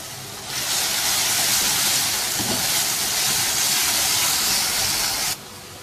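Minced meat with tomatoes and ginger paste cooks in a covered pan, giving off a loud, steady sizzling hiss of steam that holds evenly for about five seconds before easing off.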